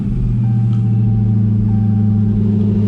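A 2019 Dodge Charger Hellcat fitted with an E85 flex fuel kit idles after starting, its engine a loud, steady deep rumble with a faint whine running close by.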